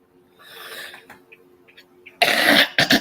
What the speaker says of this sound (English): I hope that coughing stops.